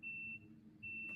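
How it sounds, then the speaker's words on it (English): Two steady high electronic beeps from a smoke alarm indoors, one long tone then a brief gap and a second tone, moderately loud over a quiet room. "Sorry about the beeping."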